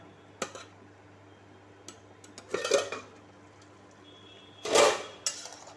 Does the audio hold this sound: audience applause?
no